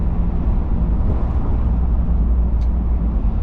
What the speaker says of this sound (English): Of course the G35 making the trombone exhaust noises.